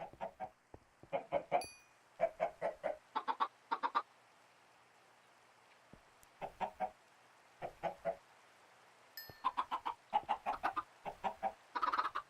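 Several Minecraft chickens in Sky Factory 3 cluck in quick clustered bursts, close and moderately loud, separated by short pauses, with a couple of high thin chirps mixed in and no talking.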